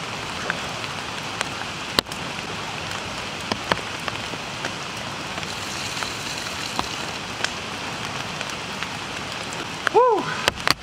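Steady rain falls on an outdoor campfire in bad weather, a dense even patter with occasional sharp drips and pops throughout, and a brief voice-like sound near the end.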